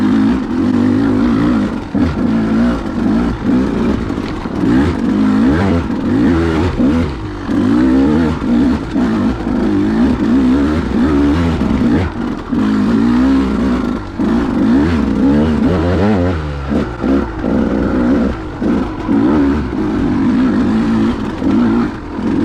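An off-road motorcycle engine labours up a trail climb in Foxboro, running loud and continuous with a steady, revving drone and shifting pitch throughout, no talking.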